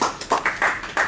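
Scattered hand clapping from an audience right after a talk ends, a handful of uneven bursts fairly close and moderately loud, with no speech.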